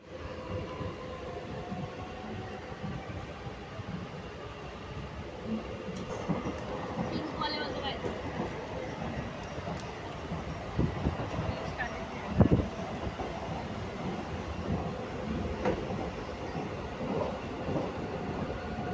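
A train ride toward CST in Mumbai: a steady rail rumble with occasional clattering knocks and a louder thump partway through, running continuously under faint background activity.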